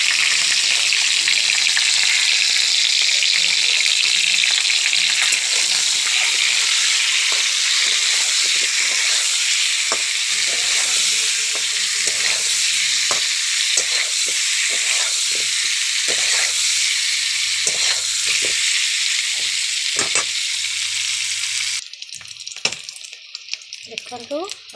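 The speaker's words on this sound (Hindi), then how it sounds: "अंडा को भल भाव में भाजी नबा" Eggs seasoned with turmeric and salt fry in a pan, giving a loud, steady sizzle and hiss with occasional stirring scrapes, before the sizzle abruptly drops near the end to quieter spatters.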